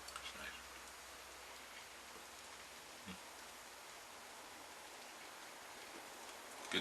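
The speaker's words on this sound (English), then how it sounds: "The good rain." Steady rain falls outdoors, a soft continuous hiss with scattered faint drips, quiet and even throughout.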